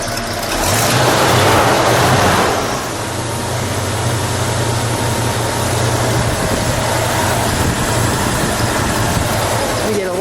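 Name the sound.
car engine idling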